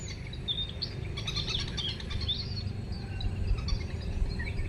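Small bird chirps in short bright bursts during fishing outdoors, over a steady rumble, with faint insect buzz in the background.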